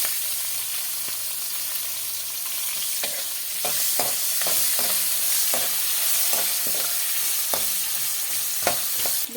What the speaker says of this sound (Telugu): పచ్చిమిరపకాయలు, కరివేపాకు వేస్తున్నాను.